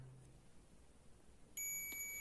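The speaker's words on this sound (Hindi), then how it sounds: "ये भी बीप की आवाज देता है" A multimeter in continuity mode tests a charge pump capacitor on a display panel board while VGH voltage is traced. After a quiet stretch, the meter gives one sudden, loud, sustained electronic beep that lasts to the end.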